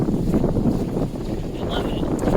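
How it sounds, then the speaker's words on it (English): Wind buffets the microphone outdoors in steady low rumbling gusts, filling the whole stretch with a continuous close roar and no speech. "It's real windy."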